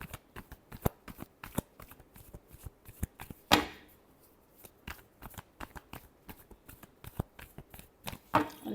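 Tarot cards shuffled by hand in quick crisp riffles and taps, a dense rhythmic run of sharp papery clicks with a couple of louder snaps, close up and without talk.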